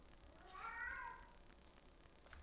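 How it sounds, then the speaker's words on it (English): A tuxedo cat named Charlie gives a single soft, mid-length meow in a quiet room, fairly faint against low background noise. "He's a handsome tuxedo cat named Charlie."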